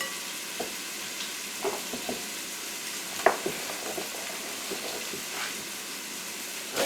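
Red potato chunks, cut in thirds about three-quarters of an inch wide, frying in a pan with a steady close sizzle and scattered crackles and stirring clatter throughout.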